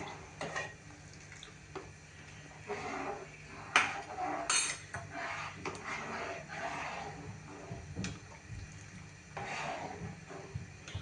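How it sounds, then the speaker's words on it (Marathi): Ragi flour slurry is stirred into boiling soup, with a spoon scraping and clinking against the pot in irregular strokes over a low simmering bubble, close by and moderately loud. "आता आपण त्याच्यामध्ये स्लरी एका बाजूने घालूया आणि एकीकडे ढवळूया, म्हणजे गुठळ्या होणार नाहीत"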